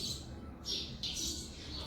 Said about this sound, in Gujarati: ચકલીઓ બોલી રહી છે